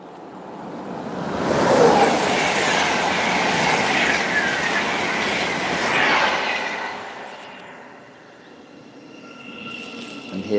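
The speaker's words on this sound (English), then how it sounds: "got another fast train coming flying through the station" A fast train races through a station with a loud, rushing roar that peaks twice as the cars pass close by. A faint wheel squeal comes through, and the roar then fades to a quieter rumble.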